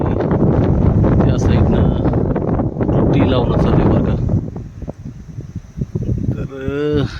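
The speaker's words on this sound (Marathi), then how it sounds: "आता तर वारा सुटलं आहे बघा" Strong wind buffets the microphone in loud gusts out in a farm field, with a person talking and a brief animal call near the end.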